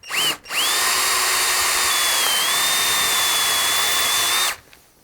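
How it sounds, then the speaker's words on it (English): A power drill whines steadily at a high pitch for several seconds after a brief start, drilling a pilot hole in metal, then spins down, loud and close. "I'm drilling my pilot hole"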